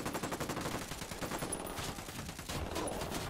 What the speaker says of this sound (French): Je sais pas sur quoi vous tirez, les mecs